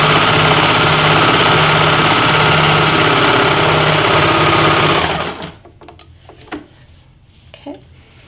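A serger stitching a seam in cotton fabric placed right sides together: a loud, steady mechanical whir with rapid rhythmic needle chatter that runs for about five seconds, then stops, leaving a few faint handling clicks.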